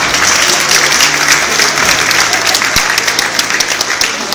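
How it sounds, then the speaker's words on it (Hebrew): Wedding guests applauding at a celebration, a loud, steady wash of many hands clapping together with crowd noise underneath, sustained throughout. "תגיע להם יותר כפיים."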